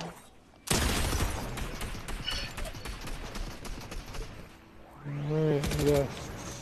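Gunfire in a multiplayer shooter game: a sudden loud volley of rapid, rattling shots that keeps going for several seconds, followed by a few more sharp bursts. A voice comes in briefly near the end.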